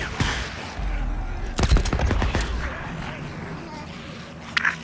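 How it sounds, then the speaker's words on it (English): A burst of rapid gunfire crackles in the middle of Days Gone gameplay, with another short shot near the end, over a rumbling background. "I hear gunshots."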